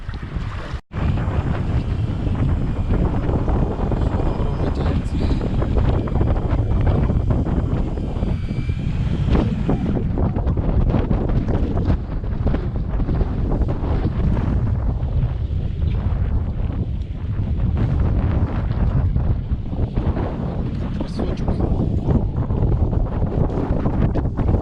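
Strong wind roars across a fishing boat at sea off eastern Kildin in late May, a loud, continuous buffeting rush over the microphone, with an engine-like drone underneath and a sharp knock near the start.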